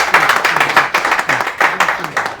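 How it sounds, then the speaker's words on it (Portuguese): An audience claps in a quick, uneven rhythm close by, a short burst of applause that fills the space. "Ela merece mais uma salva de palmas"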